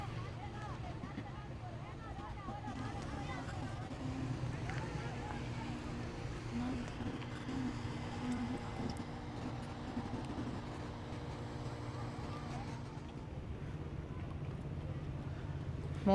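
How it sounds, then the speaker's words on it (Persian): A boat engine drones steadily at close range for the whole stretch as the vessel moves ahead along the warm southern coast at Siraf, a constant low rumble with wind over the microphone and voices talking at times. "موتور قایق، همینجوری میریم جلو"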